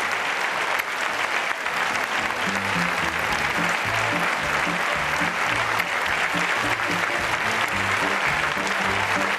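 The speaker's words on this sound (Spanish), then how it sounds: "El aplauso a Cifuentes duró exactamente 1 minuto y 9 segundos antes de su intervención." Sustained, dense applause from a large crowd at a political party event, loud and steady throughout with a few voices mixed in.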